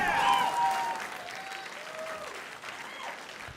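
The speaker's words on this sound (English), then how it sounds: "Let's give a round of applause again" A crowd at a regional Emmy awards ceremony applauds steadily, a broad wash of clapping that slowly tapers, with faint voices mixed in.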